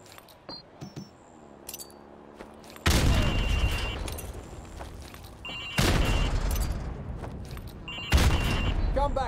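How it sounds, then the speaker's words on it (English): Frag grenade explosions in Call of Duty: Modern Warfare Remastered training, three loud booming blasts spaced a few seconds apart, each with a rumbling tail, after quieter clicks and handling sounds. "Now throw a grenade into windows 2, 3, and 4."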